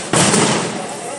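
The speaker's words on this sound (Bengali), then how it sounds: "মুহুর্মুহু বিস্ফোরণের শব্দ।" A burning chemical factory stocked with flammable material sets off a sudden loud blast that rings out and slowly fades over about a second.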